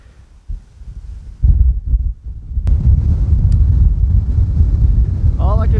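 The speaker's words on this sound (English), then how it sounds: "All I can say, it's a bit windy." Wind buffeting an outdoor microphone, with low rumbling gusts that grow loud and sustained after a brief quieter start, with no talk.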